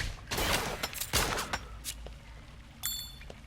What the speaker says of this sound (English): Definitely don't want to stand next to those bombs when they go off